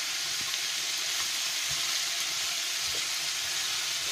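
Steady sizzling of zucchini, mushrooms, pepper and garlic frying in a hot pan over high heat, with occasional soft scraping and clinks as they are stirred.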